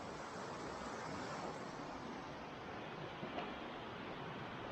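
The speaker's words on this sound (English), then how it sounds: "I don't know if you can see behind me here, the river's flooding pretty well." High, fast-flowing river in the Cranberry Wilderness of West Virginia, swollen after a night of heavy rain, gives off a faint, steady rushing roar with no voices.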